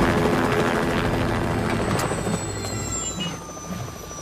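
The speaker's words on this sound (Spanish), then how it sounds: "¡El helicóptero!" Helicopter in a cartoon, a loud, close rotor chop with heavy low rumble that fades gradually over a few seconds, with brief high whines on top.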